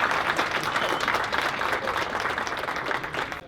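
A pitch competition audience claps for student presenters, a fairly soft, even wash of applause that holds steady throughout and cuts off abruptly at the end.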